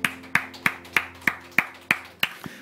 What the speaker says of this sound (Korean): 우리 주님의 박수로 찬양하십시다